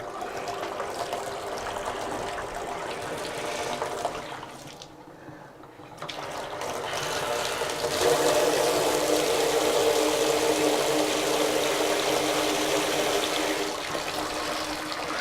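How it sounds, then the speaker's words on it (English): A laundry tub faucet is turned on, and water runs and gushes steadily for several seconds, growing louder and fuller partway through, with a brief quieter dip before it swells. "Now I'm going to turn on the laundry tub faucet."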